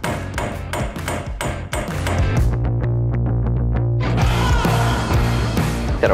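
A car radiator is hammered into place during a custom cooling system build, about a dozen sharp metallic blows ringing out close and loud, the first several in quick succession, then evenly spaced strikes and a dense final flurry.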